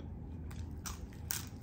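Crispy pork skin being bitten and chewed close up, a few short crunches in quick succession over a faint background, quiet and brief.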